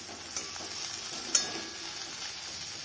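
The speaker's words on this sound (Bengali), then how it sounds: "ভাজাটা মোটামুটি হয়ে এসছে," Okra fries in a pan near the end of cooking, a faint, low sizzle broken by a couple of brief utensil clicks as it is stirred.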